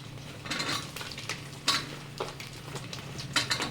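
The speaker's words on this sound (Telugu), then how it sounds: "ఇవన్నీ వేసుకున్న తర్వాత ఇలా బాగా కలుపుకోవాలి." A spatula scrapes and clatters in a pan as chicken fried rice with green chillies, carrot, capsicum and onion is stirred, with irregular metallic strokes over a faint sizzle and a low background hum.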